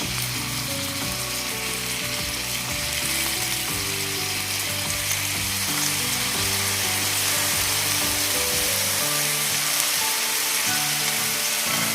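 Finely chopped potato sizzling steadily in a hot pan with spice paste for a cluster bean and potato dish, a continuous close frying hiss with faint stirring scrapes and no talk.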